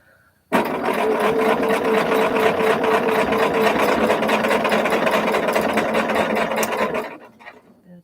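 A sewing machine stitches down a large quilt block, starting abruptly and running at a fast, steady, close mechanical rattle for about six seconds before winding down and stopping.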